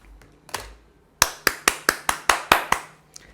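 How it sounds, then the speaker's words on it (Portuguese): Clapping during a Portuguese-language podcast talk, about nine crisp, evenly paced claps close by, following a brief faint sound and a pause. "Bata palmas, por gentileza."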